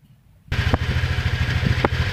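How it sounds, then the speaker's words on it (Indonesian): A motorcycle engine starts and then runs at idle with a steady, close, throbbing chug and slight clatter, with no talk. It follows a short stretch of quiet. "sepeda motor sudah dinyalakan"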